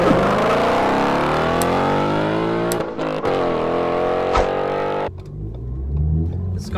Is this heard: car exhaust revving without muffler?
yes